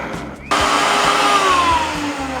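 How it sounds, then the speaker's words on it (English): A small countertop blender switches on suddenly after a moment of low rumble and whirs loudly and steadily while pureeing lemongrass, shallots, turmeric, galangal and fresh and dried chilies with a little water for Penang laksa paste. "Everything goes into my trusty little blender."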